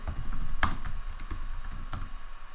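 Computer keyboard being typed on to enter a search, a close, quick run of clicking keystrokes with a couple of louder key hits, and no talking.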